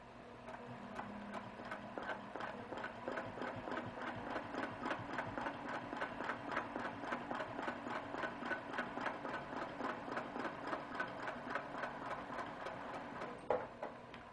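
A sewing machine with a ruler foot stitches a quilt block, running in a fast, even mechanical patter of needle strokes for a long stretch, with a small clunk just before it stops.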